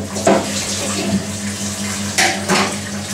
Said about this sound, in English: I'm going to put them under the cold water tap and I'm going to run cold water